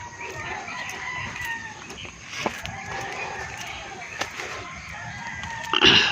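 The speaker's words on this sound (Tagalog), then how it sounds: "Ayan yung sisiw natin oh." Chickens cluck and crow in a backyard flock of Rhode Island Red and Dekalb Brown hens with chicks, a soft steady murmur of clucks and a few sharper calls near the end, with someone talking quietly over them.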